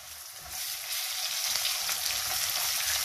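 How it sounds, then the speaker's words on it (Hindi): Loud, dense sizzle of garlic and ginger frying in a pan, swelling up after a quiet start and holding steady, crackling close by with no voices. "अब इसको फ्राई करते हैं"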